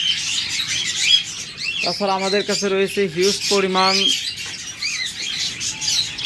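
Pet budgerigars, cockatiels, lovebirds and doves for sale chirp and squawk in a busy, continuous chorus, with someone talking over the birds through the middle of the clip.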